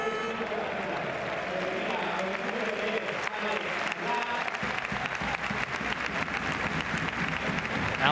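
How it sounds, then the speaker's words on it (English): A football stadium crowd in an FC Cartagena vs CF Fuenlabrada match applauds a tackle. Sustained clapping and crowd roar swell after a brief lull partway through, with a voice heard at times above it. "Castro there getting a round of applause for that tackle."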